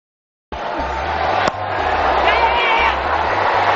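A Test match cricket crowd cheers and applauds batsman Mahela as he departs for 240, a loud swelling roar that bursts in after a brief silence and holds steady under a commentator's voice.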